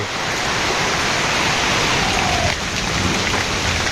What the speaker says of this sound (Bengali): এই বৃষ্টি গুড়ি গুড়ি গুড়ি গুড়ি বৃষ্টি